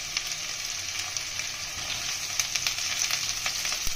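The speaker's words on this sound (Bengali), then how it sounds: "তেল গরম হয়ে গেছে, আমরা রসুন কুচিটা দিয়ে দেবো। রসুন, আদা কুচি, কাঁচা লঙ্কা কুচি," Chopped garlic, ginger, green chilli and onion sizzling in hot oil, a steady loud hiss with crackling bursts and occasional stirring knocks, no voices.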